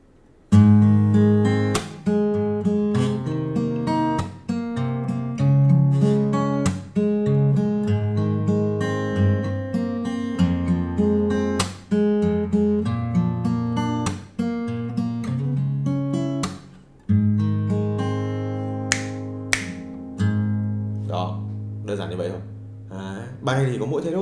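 Guitar playing a ballad in a lesson arrangement, with steady plucked and strummed chords and a clear melody ringing close and alone for the whole passage.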